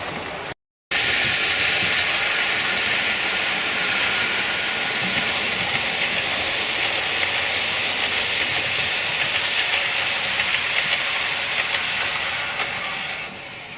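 A model Class 66 locomotive runs along model railway track, making a steady, continuous rolling rumble with faint rhythmic clicks. The sound cuts out briefly near the start and then holds at an even level to the end.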